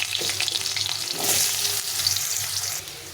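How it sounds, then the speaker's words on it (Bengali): Long potato strips sizzle steadily in hot oil in a pan while cooking a tengra fish curry, a loud continuous frying hiss with occasional stirring and no talk. "এখন আমি এর মধ্যে আলুটাও ভেজে নেব।"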